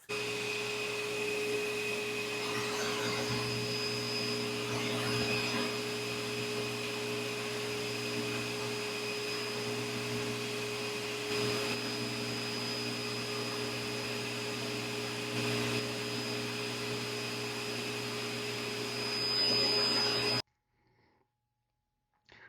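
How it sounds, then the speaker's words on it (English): A buffing wheel whirs with a steady motorized drone as the stem of a 1960 Dunhill Bulldog tobacco pipe is polished, holding constant until it cuts off abruptly near the end. "we'll let that dry and we'll put it on the buffer"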